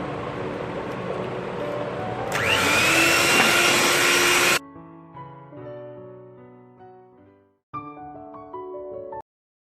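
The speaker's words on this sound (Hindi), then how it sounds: "अब हम इसमें एग डालेंगे एक एक कर और इसको बीट करेंगे।" An electric mixer whirs loudly for several seconds as eggs are beaten into cake batter for a Maltesers malt cake, then cuts off abruptly, followed by a soft melodic tune.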